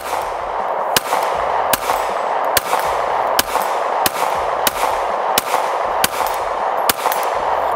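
A Glock pistol fitted with a stabilizing brace fires about nine sharp shots at a steady, roughly evenly spaced pace, each a loud crack over a continuous background hum.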